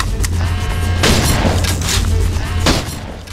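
Shotgun fire in the shooter Red Faction inside a generator room: loud, heavy blasts booming back to back over a constant low rumble, with a strong report near the end.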